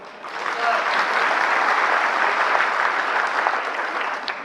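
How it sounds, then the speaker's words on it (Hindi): Sustained applause from a seminar audience, steady and full for several seconds with a dense wash of many hands clapping, fading slightly toward the end. "ये तालियां जो हैं"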